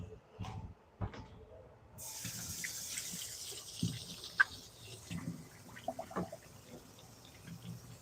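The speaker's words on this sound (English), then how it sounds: "Wash my hands real quick." Water runs from a kitchen tap over hands being washed, a steady broad hiss starting partway through with small splashes and knocks, fairly close.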